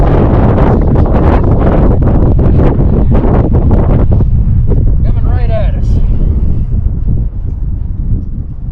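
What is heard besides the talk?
wind gust on golf course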